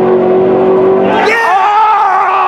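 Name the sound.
race car roaring down the track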